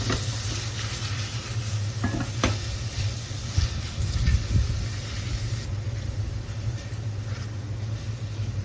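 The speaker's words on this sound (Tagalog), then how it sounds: "I-fry lang natin." Mushrooms fry in a pan with mustard, giving a steady, moderately loud sizzle with a few brief clinks of stirring partway through.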